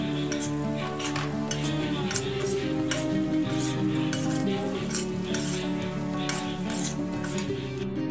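Spiced baby potatoes cooking in a pan with masala: a constant sizzle with regular, rhythmic scrapes and clinks of a spoon against the pan, over a low steady hum.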